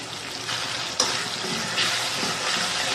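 Chopped onions fry in a pan with salt as the base for a mutton curry, giving a steady close sizzle and hiss with a brief scrape of stirring partway through.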